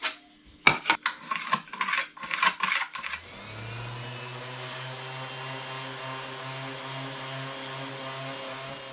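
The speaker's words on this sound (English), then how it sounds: "Just gonna give a light sanding" A handful of quick raspy strokes of light sanding on the wooden gluing surface of a boat rudder part, close and distinct, give way to a steady mechanical hum.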